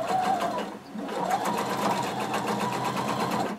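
A sewing machine runs steadily, stitching the inseam of a jumpsuit, a close continuous whirring drone with a rapid needle pulse throughout, with no talk over it.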